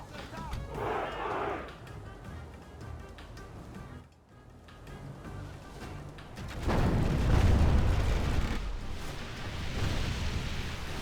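Siege artillery fires and shells explode in a Crusades-era strategy game battle. Deep booms and rumbling blasts rise over ongoing battle noise, with the heaviest burst in the second half, while a voice talks intermittently.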